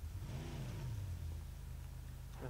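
Car engine revving in PUBG, a steady mid-pitched motor drone with a rising and falling rev near the start, loud and continuous with no talk over it.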